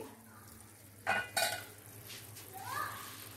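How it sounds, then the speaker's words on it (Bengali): A lid lifted off a pan of khoya prawns cooking on the stove, giving two quick metallic clinks close by, followed by a soft rising sizzle from the pan. "এবারে আমি চাপাটা খুলছি।"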